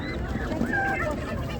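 Broiler chicks at a poultry market in Ganja chirp and peep in a short, busy burst, close by amid general market noise.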